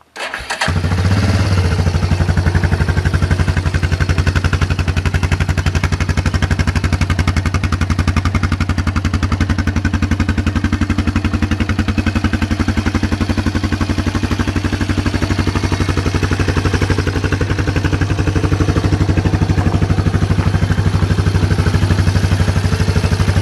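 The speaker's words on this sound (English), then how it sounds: "Go ahead and start it. Electric start first." Electric start of a 1994 Yamaha Kodiak 400 ATV: a brief starter crank catches at once, then the engine runs in a loud, steady, close idle with even rhythmic pulsing for the rest of the time.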